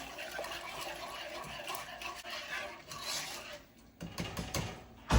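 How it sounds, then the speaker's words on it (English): Milk and sugar are whisked in a pot for a pudding base, a continuous quiet swishing and rattling with liquid sloshing, briefly easing before a few louder clattering strokes near the end. "we're just going to whisk until our sugars dissolve"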